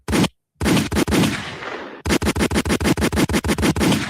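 Rapid bursts of gunshot sound effects: a few single shots, then a fast rhythmic volley like machine-gun fire, loud and close, with no talking.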